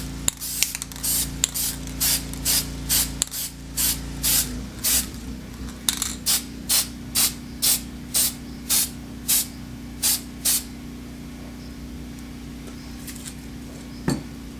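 A spray can paints a part of a trip wire alarm in a quick series of about twenty short, loud hissing bursts. The bursts are evenly spaced at first, then trail off into a faint background hum.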